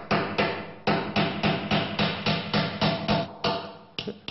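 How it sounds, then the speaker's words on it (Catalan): A hammer drives tacks into a handmade wooden Mallorcan ladder with steady, evenly spaced loud knocks, about a dozen in a row, close and without talk. "ara hem d'acabar de clavar les tatxes"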